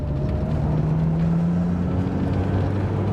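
A 1986 Porsche 944 engine drones steadily from inside the cabin, its pitch climbing gradually as the car accelerates through the gears, with road and wind noise underneath.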